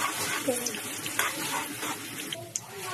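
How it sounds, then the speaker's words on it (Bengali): Sliced onions fry in mustard oil into crisp beresta for a Kolkata Haji-style beef biryani, giving a faint, steady low sizzle with a few small pops and no talking. "পেঁয়াজটা ভাজা হয়ে গেছে।"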